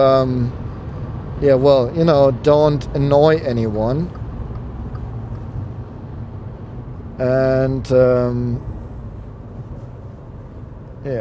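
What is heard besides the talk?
engine and wind noise inside a 2016 Volkswagen up! while driving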